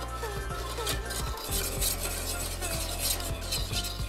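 Spoon stirring a thickening millet mixture in a pan over heat, a steady scraping and rubbing with soft clinks against the pan under a constant background hum.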